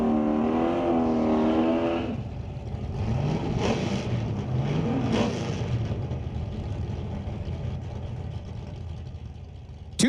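A drag racing car doing burnouts in the Super Pro class at Mission Raceway Park: an engine revs high and climbs, then settles into a loud, sustained roar, with a sharp burst at the very end.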